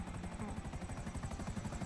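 A helicopter in GTA 5 Online, its rotor throbbing in a steady, fast low chop that stays close and fairly quiet for a couple of seconds, with no talk over it.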